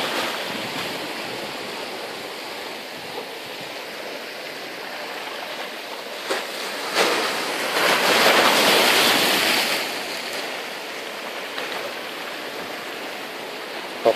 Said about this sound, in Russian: Тут уже мокрые камни, волны доходят до сюда.